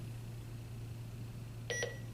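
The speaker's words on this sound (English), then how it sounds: "Once you put your fourth battery in, it's going to take a second, and then you are going to hear a beep." A quiet room hum, then two short electronic beeps in quick succession near the end.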